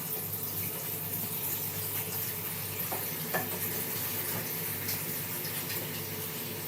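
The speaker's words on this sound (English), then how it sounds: "so I'm now going to give it a stir" Food stirred in a Saladmaster pan, a steady sizzling, scraping wash of cooking noise with a few sharper clinks of the utensil against the pan, continuous and close with no talking.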